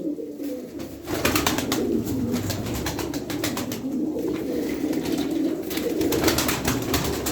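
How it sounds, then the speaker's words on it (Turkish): Soft low cooing of a flock of twelve pigeons, steady and close, with a brief burst of wing flapping near the start and rapid rustling flutters through the rest. "On iki tane kuş abiler."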